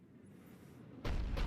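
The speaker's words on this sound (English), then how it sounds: "Looks like Cerberus got that cannon operational, Commander." A Cerberus cannon fires in the video game Mass Effect: after a low, quiet ambient hum, a loud, sustained booming blast bursts in and continues to the end.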